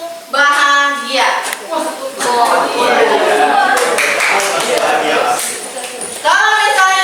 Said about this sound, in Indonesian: Ibu akan adakan ice breaking, yaitu tentang tepuk bahagia